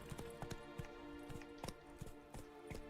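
Horse hooves clatter in a quick galloping rhythm in The Witcher 3, sharp repeated clip-clop strikes over a steady low game ambience, close and clear with no talking.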